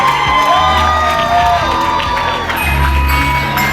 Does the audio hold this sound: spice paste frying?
no